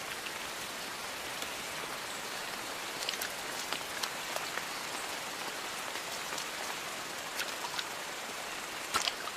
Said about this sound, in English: Under the shelter of layers of leaves, the deluge is reduced to drips.